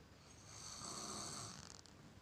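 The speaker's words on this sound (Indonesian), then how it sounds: "Dia ngorok ya guys." A sleeping person snores once in a single long, raspy breath, low in volume and close by, with no talking.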